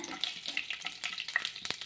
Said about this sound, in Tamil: அப்படியே தாளித்து ஊற்றிக்கலாம்.